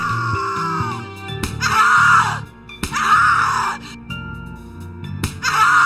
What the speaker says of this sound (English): Scream louder, little bitch! Scream your lungs out! Louder, I said!